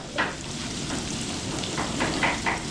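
Onions, garlic, carrots and potatoes sauté in a pan with a steady, moderately loud sizzle and occasional soft stirring scrapes, with no voices.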